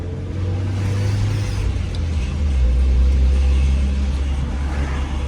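A car driving through city streets in Philadelphia, a steady close engine and road rumble with a low drone that rises slightly midway, continuous and fairly loud with no talking.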